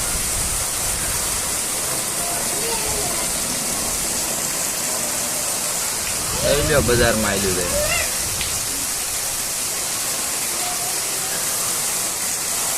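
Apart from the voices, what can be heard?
heavy rain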